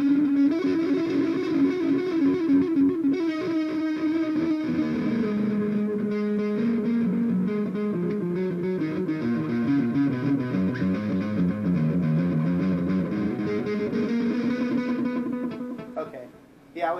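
An electric guitar runs through a Michael Angelo Batio signature digital delay pedal, sustained distorted notes trailing repeating echoes that blur together, loud and steady throughout until a quick cutoff at the end.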